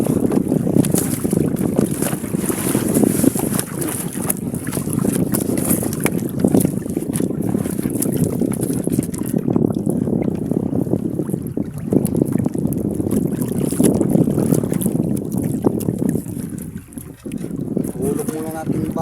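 Wind buffets the microphone on a small fishing boat out at sea, a constant rough rushing roar with engine or water rumble beneath, while someone talks throughout.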